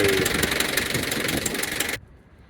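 A lorry engine, warmed up, runs with a steady loud rumbling knock for about two seconds, then cuts off sharply into near silence.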